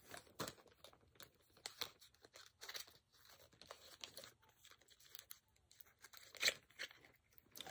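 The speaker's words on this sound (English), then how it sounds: "We like to cut up boxes." Cardboard boxes are being cut up, giving quiet, scattered tearing, crinkling and crunching bursts in irregular bursts, close by, with no talk.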